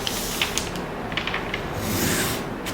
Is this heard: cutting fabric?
yes